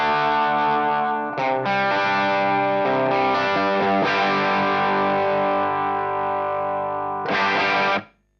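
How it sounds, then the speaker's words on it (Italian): Distorted electric guitar through a Blackstar Series One Mk II amp with the ISF control set to British, strummed chords ringing loud and close, a brief pause, then a final chord that cuts off sharply. "Se io lo metto dal lato del British, dovrebbe suonare ancora di più come una Marshall."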